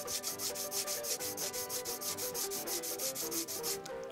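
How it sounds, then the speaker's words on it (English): Wooden harmonica comb being flat-sanded by hand, a steady rhythmic back-and-forth rasp of even strokes, close and continuous, with a tonal hum underneath. "So you go ahead and flip this around and then sand."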